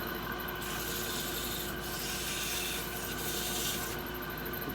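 100-grit sandpaper rubs against a wooden wig stand spinning on a lathe at low speed, a continuous close rasping hiss that swells in a few brief surges.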